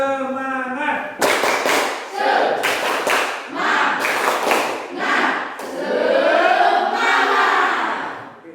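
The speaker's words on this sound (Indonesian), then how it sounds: "Tepuk semangat." A classroom of fifth-grade pupils claps in rhythmic bursts for a spirit-clapping routine, sharp loud claps falling in quick patterned groups, mixed with children's voices chanting and shouting along.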